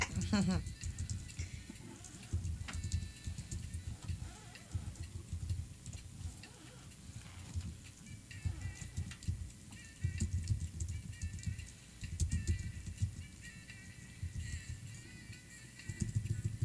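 Soft, irregular key clicks of typing on a keyboard, continuing under quiet nearby talk.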